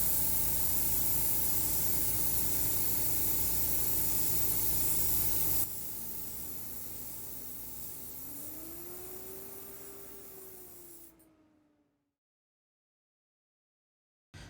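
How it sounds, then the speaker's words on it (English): An airbrush sprays Pro Acryl transparent acrylic ink in a continuous close hiss that softens partway, then tapers off and cuts to silence near the end, alone without voices. "This is the first we're going to see it come out of an airbrush."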